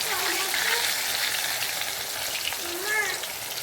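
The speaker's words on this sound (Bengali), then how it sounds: "এই দেখো আমি আগে ভেজে নিচ্ছি আমার গোবিন্দ জন্য পাঁচ রকমের ভাজা" Several kinds of fried dishes crackle in hot oil in a pan, a close, continuous sizzle. A voice is heard faintly in the background.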